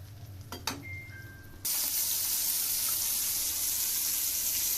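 Hilsa fish pieces frying in hot oil give a sudden loud, steady hiss that starts after a couple of clinks and continues unbroken for several seconds.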